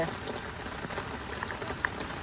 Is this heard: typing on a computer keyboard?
no